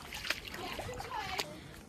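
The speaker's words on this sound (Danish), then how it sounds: "jeg kan bare gå igennem den her dejlige tykke vandpyt her." Feet slosh through a thick puddle of water at a horse stable, giving a few soft splashes and watery squelches while children talk throughout.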